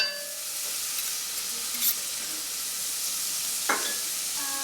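Minced celery and onion sauté in a pan as a steady, soft sizzling hiss, with a few brief stirring scrapes and no talk.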